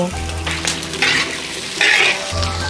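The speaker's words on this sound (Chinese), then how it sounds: "水分炒干过后，放入姜蒜、花椒、小米椒8个。" Ginger, garlic, Sichuan peppercorns and eight small chilies hit a hot wok for a Sichuan-style steamed fish, crackling in a loud, continuous sizzle punctuated by several bright spatula scrapes and stirs.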